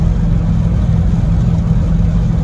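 A car fitted with a Switch Pitch TH400 automatic transmission cruises at steady road speed around 2,500 RPM, giving a continuous loud low engine drone with a constant hum and no talk.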